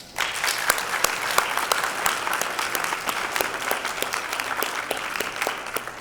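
Sustained audience applause fills a hall at a legal aid equal justice awards ceremony, a dense, steady patter of many hands clapping for about six seconds before it begins to fade.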